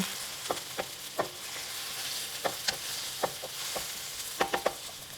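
Semi-frozen meat sizzles and fries in a pan on medium-high heat for a Lao salad, a steady hiss broken by sharp crackles and pops.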